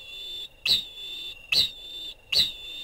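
A large flightless bird gives three loud, sharp whistles, evenly spaced about a second apart with near silence between them, heard up close.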